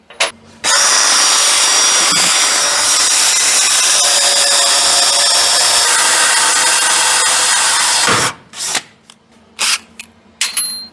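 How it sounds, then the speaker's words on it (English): A loud power drill drills a hole while a car exhaust is being built, running steadily for several seconds, whining at a constant pitch, then stops and gives a few short bursts. "Drill that first hole and get a bolt in it"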